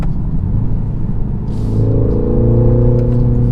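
A BMW X2 M35i turbocharged four-cylinder gives a quick throttle blip on a downshift, a short rising rev that settles into a low steady rumble, heard from the cabin with no talking.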